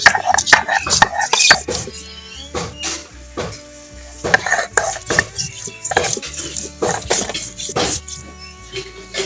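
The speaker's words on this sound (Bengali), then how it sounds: "এবার এটা আমি বেটে নেব।" Whole cumin, ginger and dried red chili pounded by hand for a catfish curry spice paste, a loud, uneven run of sharp knocking strikes repeated in irregular bursts, close by.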